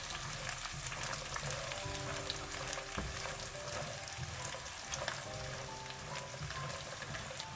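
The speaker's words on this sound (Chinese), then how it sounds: "再将大料倒进来，继续翻炒，把大料的香味炒出来" Peanuts, garlic and star anise are stir-fried in a wok, giving a soft, steady sizzle with irregular scraping and clinking of the spatula, fairly quiet and without speech.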